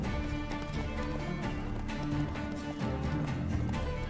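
Horse hooves clip-clop steadily in The Witcher 3, with a faint whinny, all set under a continuous bed of game music.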